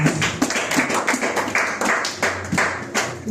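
Church congregation applauding during a Sunday service, with dense, close, continuous clapping from many hands at a lively rhythm and a faint voice underneath.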